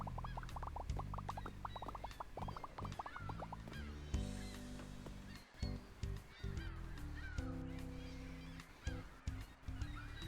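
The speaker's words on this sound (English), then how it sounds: "there goes the seagulls" Seagulls call in quick, squawking and honking bursts, one after another, layered over a busy tonal backdrop with no talking.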